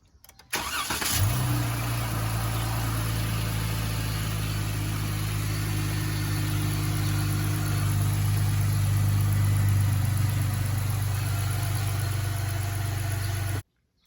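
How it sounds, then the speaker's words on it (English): A 2021 Dodge Charger SXT AWD 3.6 engine cranks and catches after a brief start, then settles into a steady, continuous idle rumble close by for the rest of the clip. "When you're going to start the engine and let it circulate."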